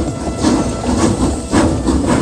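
A steam train rolls past in the video game Gun, loud and close, with rhythmic chuffing hiss and rumbling wheels repeating in pulses, with no voices.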